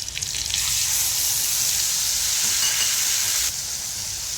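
Spice masala hitting hot oil in a pan, a loud, continuous sizzle and crackle as it is stirred, easing slightly toward the end.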